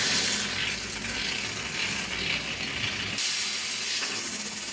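A pressure cooker lets off its second whistle while aloo paratha is being made, a loud, steady jet of hissing steam that runs throughout and shifts in tone near the end, with no talking.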